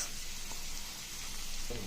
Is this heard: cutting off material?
no